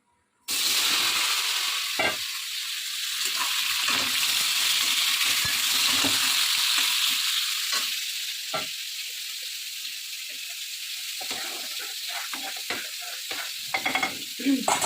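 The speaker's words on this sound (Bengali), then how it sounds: "তো এখন আমি পটলগুলো ভাজার জন্য বসিয়ে দেবো।" Pointed gourd (potol) pieces tossed with salt and turmeric drop into hot oil in a wok, setting off a loud steady sizzle that eases slightly, with scattered utensil clinks and scrapes toward the end.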